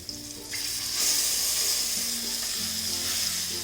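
Masala frying on a low flame for Malabar kalmas, a steady close sizzle with a soft hiss throughout and faint musical tones underneath, no voices.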